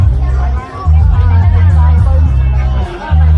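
A Sunday street crowd in Phnom Penh, Cambodia, near the riverside, forms a dense, loud babble of many voices under a steady low rumble, with nearby people talking throughout.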